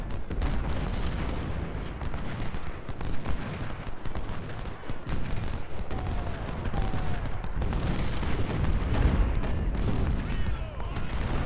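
Continuous rumbling musket and artillery fire roll through a Civil War battle in the strategy game Ultimate General: Civil War, a dense, steady barrage with someone talking over it.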